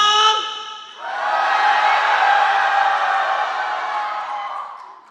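A church congregation at a family revival service shouts and cheers together in a loud, sustained roar that swells after a brief whistle-like opening and holds steady before fading slightly at the end.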